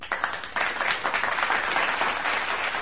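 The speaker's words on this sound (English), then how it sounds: "Like this is an applause one" An applause preset sample plays from a Maonocaster Lite AU-AM200 podcasting mixer: a steady burst of crowd clapping that lasts about three seconds.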